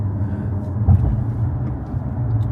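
A 2023 Chrysler 300C with the 6.4-liter HEMI V8 gives a steady, deep engine rumble close by, swelling briefly early on and holding a strong low drone throughout, with no voices.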